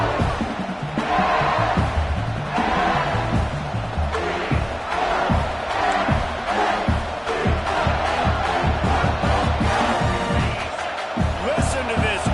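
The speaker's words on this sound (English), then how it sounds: "Listen to this crowd just shaking the girders of this place, trying to help their defense." A stadium crowd roars loudly and continuously in an American football video game, with an announcer's voice talking over the swelling noise.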